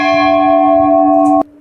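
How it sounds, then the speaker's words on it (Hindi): A temple bell at the Devidhura shrine rings once with a strong metallic strike and a long, bright sustained hum that suddenly cuts off near the end, loud and close with no talking. "और ये घंटी बजा रहा"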